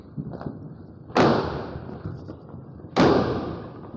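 Two loud firecrackers burst outdoors during a Diwali celebration, each one a sharp, booming crack followed by a brief rumbling decay, with faint pops and background noise between them.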